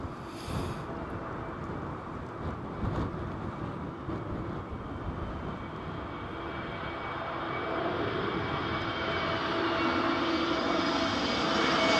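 Passenger planes landing at Heathrow airport during Storm Isha roar steadily, a broad jet-engine rumble mixed with gusting wind that grows louder toward the end as an aircraft comes closer.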